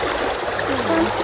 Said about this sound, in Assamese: চাওক চাউণ্ড শুনক এবাৰ ইমানে বেছি সোঁত